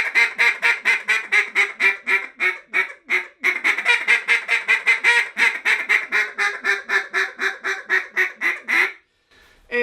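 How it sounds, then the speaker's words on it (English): A bouncing hen call blown on a duck call, a long rapid run of loud, close quacks in a bouncing rhythm that ends abruptly, played alone without talk. "So, I'll let you hear what the bouncing hen sounds like."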